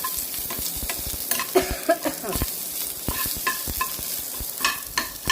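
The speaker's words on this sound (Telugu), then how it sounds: "గార్లిక్ కొంచెం ఫ్రై అవుతూ ఉంటే అందులోనే మనం ఆనియన్స్ కూడా వేసేసుకోవాలి" Garlic and onions fry in a pan for a garlic onion chutney, a soft continuous sizzle broken by repeated clinks and scrapes of a spoon stirring against the pan, with no talking.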